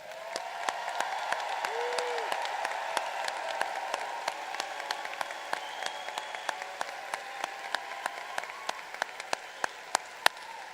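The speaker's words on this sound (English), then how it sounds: "please stand for a round of applause." A large graduation audience at the Class of 2023 ceremony claps in sustained applause, a broad crowd wash with sharp nearby claps standing out and a brief tone partway through.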